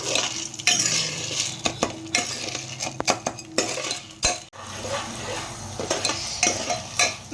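Butter and popcorn kernels stirred in a pan over a low gas flame, a spoon scraping and clinking against the metal in irregular strokes over a faint sizzle, close and fairly loud, no talk.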